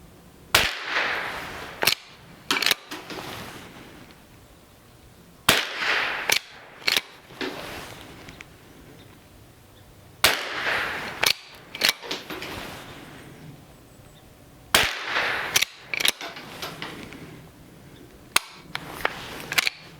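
An old Winchester Model 250 rifle fires several rounds outdoors, sharp cracks in small groups followed by brief mechanical clicks of the action, repeated in cycles at moderate loudness.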